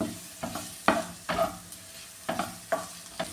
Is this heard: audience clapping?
no